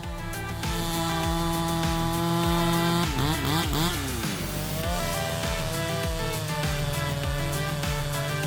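Husqvarna 272 XP chainsaw cutting through wood, a loud continuous buzzing engine drone that bogs and rises in pitch as the chain bites, heard close and alone.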